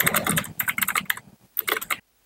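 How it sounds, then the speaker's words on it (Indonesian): Fingers type on a computer keyboard in quick, uneven bursts of close clicks, pausing briefly in the middle, then stopping into silence. "Kita coba ketik dulu satu-satu."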